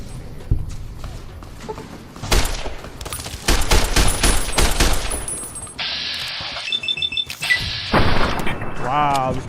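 A service rifle fires in the video game Fallout New Vegas, with dense, sharp volleys clustered in the middle stretch, and a voice talks around the shots.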